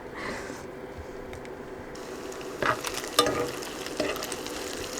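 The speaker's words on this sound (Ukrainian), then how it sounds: "Так, це сюди і трошки обсмажуємо або підігріваємо." A potato gnocchi dressing fries in a pan with a low steady sizzle, broken by a few clinks and scrapes of a utensil being stirred, close and fairly quiet with no talking.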